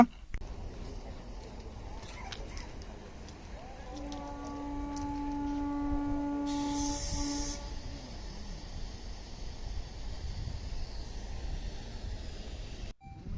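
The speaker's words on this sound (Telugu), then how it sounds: "బ్రేక్ రిలీజ్ చేసేటప్పుడు ఏంటంటే ఒక సౌండ్ వస్తుంది" A brief burst of hissing air from a train's air brake release rises over a low, steady train rumble, while a sustained tonal whine sounds alongside it.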